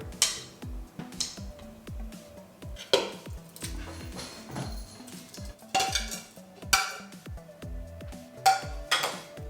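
A utensil scrapes and clanks against an Instant Pot in a steady stirring rhythm while cooking salsa verde chicken, with occasional louder metallic knocks and a faint sizzle underneath.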